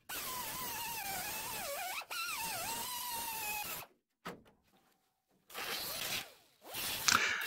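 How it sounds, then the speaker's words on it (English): A power tool cuts old wheelhouse sheet metal on a 1964 Impala SS with a steady, high whining grind whose pitch sags under load. It runs in bursts with short silent pauses between cuts. "And here I'm trimming out the rest of the old wheelhouse."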